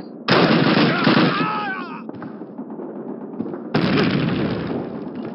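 Grenade blast and gunfire in Call of Duty's Pavlov's House battle, a loud burst of booming noise that decays into rumble, then a second heavy explosion near the end, with shouting voices mixed in.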